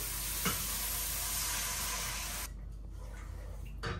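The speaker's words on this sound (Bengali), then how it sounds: "মশলাটা কষানো হয়ে গেছে, এখন ঝোল দিয়ে দিই।" Broth poured onto fried spice paste in a pan of small fish sets off a loud, hissing sizzle that suddenly drops to a quieter simmer partway through, with no voices.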